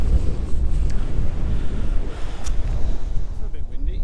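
Strong wind buffets the microphone on an open hilltop during a summer solstice wild camp, a loud, gusty low rumble that surges and dips across the whole stretch, with a voice speaking briefly near the end.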